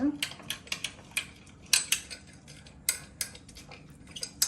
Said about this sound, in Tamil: இதை மிக்ஸ் பண்ணி கொஞ்சம் டைம் வைப்போம் ப்ளூம் ஆகுறதுக்கு.